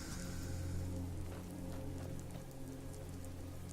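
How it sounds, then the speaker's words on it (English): Steady rain falls in a snowy northern video game landscape, a continuous dense patter of drops on the ground with no voices, even and unbroken from start to finish. "Yeah, it's raining now."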